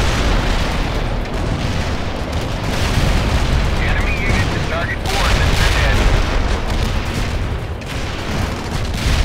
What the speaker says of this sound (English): Zulu Niner firing mortars.